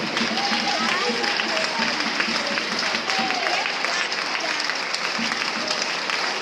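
Steady, loud applause from a church congregation fills the space, dense and continuous throughout, with faint voices threaded under the clapping.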